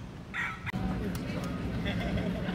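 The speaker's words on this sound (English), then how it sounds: "wild roosters everywhere." Wild roosters in the Florida Keys cluck and crow briefly near the start, mixed with street noise and someone talking over them.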